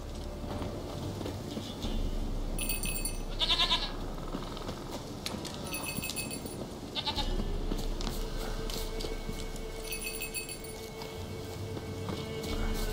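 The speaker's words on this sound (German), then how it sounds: "Das ist eine störrische Ziege." A stubborn goat in the video game The Witcher 3 bleats several times over steady in-game ambience with faint hoof clops, with no talking.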